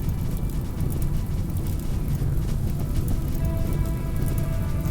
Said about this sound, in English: It's raining, which means it's all going to go out